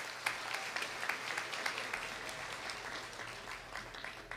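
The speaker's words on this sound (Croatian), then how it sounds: "Mislim da su naši izvođači zaslužili još jedan veliki aplauz." An audience applauding performers at a singing contest, a steady wash of many hands clapping at moderate distance with a few sharper claps standing out, no speech over it.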